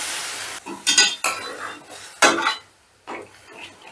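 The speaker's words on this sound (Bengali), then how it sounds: "এবার ডালের সঙ্গে জলটাও বেশ একটু ভালো করে মিশিয়ে দিচ্ছি।" A metal spoon stirs water into lentil dal in a pot, making scraping, clinking strokes and sloshing bursts with short pauses between them.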